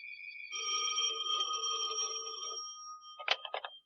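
An old-time radio drama telephone rings with a long, steady electric bell tone, followed by a short broken burst of ringing, heard clearly on its own without talk.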